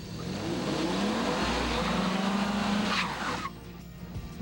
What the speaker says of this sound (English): And next, the four-wheel drive Toyota Tacoma.